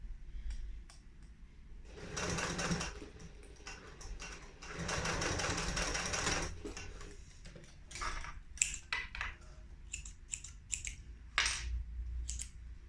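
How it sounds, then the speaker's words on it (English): A sewing machine stitches across fabric bag strap connectors in two sustained close runs, followed by short bursts of stitching and clicks as the work is adjusted. "I'm just going to stitch over the bottom just to secure them"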